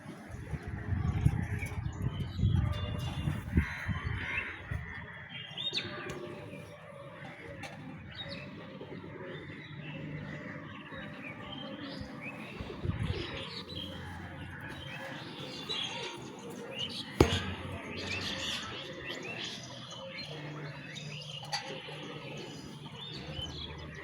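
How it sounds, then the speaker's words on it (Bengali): Outdoor birds chirp and coo under an overcast, rain-threatening sky, a steady mix of small calls and soft dove-like cooing amid busy background ambience, louder near the start. "ওই সেটটাতে কিছু পাখি আছে, এত সুন্দর, খুবই ভালো লাগে।"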